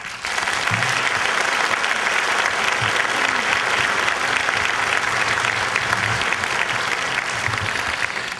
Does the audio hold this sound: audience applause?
yes